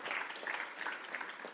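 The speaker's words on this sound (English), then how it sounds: "So give yourselves a round of applause." Audience applause at a counterterrorism conference hall, a moderate wash of clapping from a seated crowd, steady and somewhat distant, with faint murmuring.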